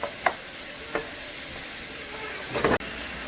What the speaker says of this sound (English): Just mix it while they are cooking. Still we are cooking in a high flame.